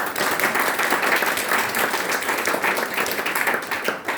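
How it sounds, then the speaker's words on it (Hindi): Loud, dense applause from an audience in a hall welcoming first-time guests at a leadership development program, sustained and even throughout with no talking over it. "हमारे नए मेहमानों के लिए एक बार जोरदार तालियां"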